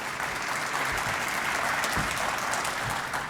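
A conference audience at the Mississippi Municipal League's 88th annual gathering applauds Transportation Commissioner Dick Hall, dense sustained clapping filling the room evenly from start to finish.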